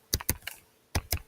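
A computer keyboard is typed on, with about five crisp, close key clicks in two quick bursts separated by a short pause.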